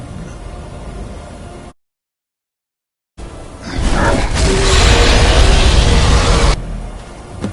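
A Greybeard's Thu'um shout in Skyrim, a powerful surging roar that swells after a brief silence and holds loud and broad for a few seconds before cutting back to steady ambience.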